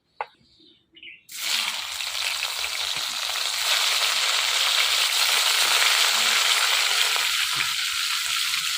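Jiol fish frying in hot oil in a village kitchen, a loud, steady sizzle that bursts in after a brief quiet moment and holds strongly to the end, with no talking over it.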